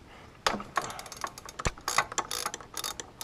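Ratchet wrench clicking as a 12mm bolt on a Subaru power steering bracket is loosened, close up, in several quick bursts of rapid pawl clicks with short pauses between.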